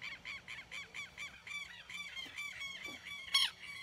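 A flock of birds in a Brazilian park honks repeatedly while mobbing an owl, a steady run of harsh, goose-like calls at moderate distance with one sharper, louder cry near the end.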